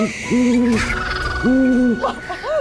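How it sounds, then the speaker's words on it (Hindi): A white owl hoots in repeated long, steady calls, three loud close hoots spaced about a second apart, with no talk. "देखो सफेद उल्लू।"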